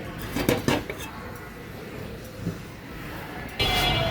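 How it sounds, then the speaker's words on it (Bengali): A cooking pot is set down on a stove in a home kitchen while masoor dal is being made, giving a couple of close metallic clanks early on, then quiet kitchen ambience and another brief clatter near the end. "এই পাত্রটা আবার বসাই দিলাম।"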